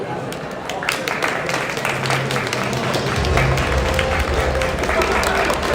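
An audience at a tech law festival book launch applauds a team placing third, with dense clapping building and holding steady throughout under a busy hall murmur.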